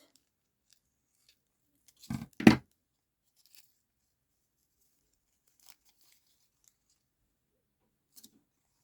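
Scissors cutting off excess fabric for a page tab, two quick close snips in quiet surroundings, followed by a few faint small taps.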